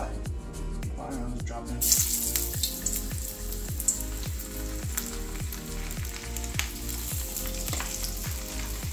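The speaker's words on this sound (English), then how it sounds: "We turned the oil temp down a little bit because I feel like, judging by the color of that, it's a little burnt." Bluegill fillets frying in hot oil, a continuous bubbling sizzle with regular crackling pops, growing louder and brighter as more fish drops in; brief speech is heard.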